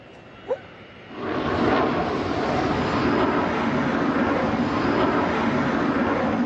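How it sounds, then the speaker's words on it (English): A Eurofighter jet in a flying display at the Paris Air Show: after a brief quiet moment and a sharp click, a loud, broad roar of jet engine noise swells in and holds steady, close and powerful. "flaunts the plane's maneuverability to the onlookers at this year's Paris Air Show"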